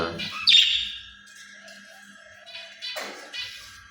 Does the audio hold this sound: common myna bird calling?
yes